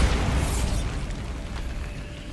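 A Bombarda spell explosion in Hogwarts Legacy, a loud close boom at the start that rumbles and fades over about two seconds.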